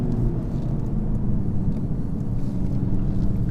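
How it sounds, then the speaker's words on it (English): Steady low diesel-style drone from a 2015 VW Golf GTD with a synthetic sound actuator, heard inside the cabin while driving; even, continuous rumble with road and wind noise and no talk. "This has the sound actuator as well, so you kind of get this like slightly fake diesel-y noise coming into the cabin"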